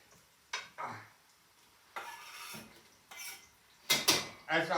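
Garlic tossed into a pan of nearly browned onions while making stuffed eggplant in tomato sauce, heard as a few brief sizzling bursts and clattering pan and utensil knocks, separated by quiet gaps.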